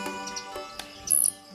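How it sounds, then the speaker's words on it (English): Small birds chirp and call in Portuguese cork oak woodland, short high tweets and one sharp whistled note standing out over a faint sustained tonal background. "Those birds that hadn't actively started nesting were calling vociferously from this woodland"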